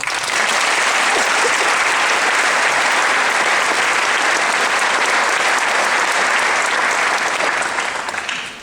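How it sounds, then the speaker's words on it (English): A large crowd at a high school graduation ceremony gives the faculty a loud, sustained round of applause, a continuous dense roar of clapping that holds steady throughout. "I think you guys deserve a round of applause"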